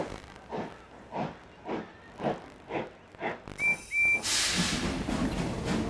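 A steam engine chuffs in rhythmic puffs, gives two short whistle toots, then lets out a long, loud hiss of released steam.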